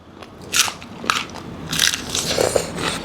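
Crisp, loud crunching bites of a spicy Thai pounded salad made with tamarind-like crunchy vegetables, several close chomps and crackles in quick succession with no talking.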